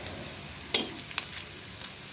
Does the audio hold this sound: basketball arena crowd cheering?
no